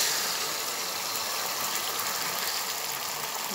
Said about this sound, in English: Frying pan already hot, and I'm going to throw in my eggs now.